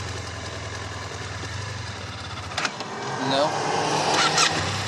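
BMW F800ST motorcycle engine pulling in third gear on a 2012 commuter bike, a steady drone under wind noise that rises in pitch and loudness toward the end, with a rider talking over it.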